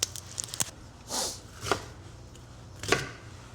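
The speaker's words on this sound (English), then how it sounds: "Take the head and the butt off, and then give it a quick rinse, chop it up, and put it in my pot." A knife chops through fresh celery on a cutting board, making a few quick crisp cuts and taps, close and fairly quiet, with no talk.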